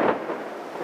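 Thunder rumbles during a storm with rain, a brief low rolling boom that starts strongest and then trails off as a dull continuing rumble.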